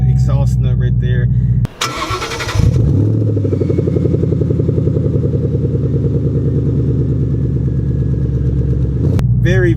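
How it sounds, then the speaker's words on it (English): A 2014 Ford Mustang GT350 Shelby with a supercharged engine cranks and fires up loudly, then settles into a deep, throbbing exhaust idle that runs steadily for several seconds before a quick rev at the end. "I'm gonna go ahead and start this Mustang up and just listen to it"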